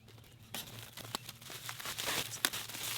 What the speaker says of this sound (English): I'll just start cutting the plastic off.